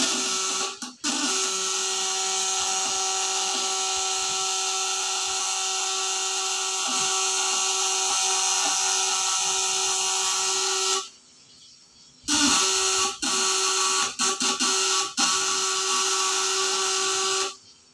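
Electric fish-shocking device (setrum, 500–1000 W) buzzing under load with its probes in a bucket of water, a loud steady whine with harmonics that drops out briefly near the end, then resumes with choppy interruptions.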